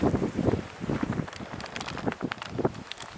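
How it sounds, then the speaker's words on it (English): Strong Arizona wind buffets the microphone and hisses steadily and loudly, with rumbling gusts and rustling throughout. No one speaks. "Crazy Arizona winds."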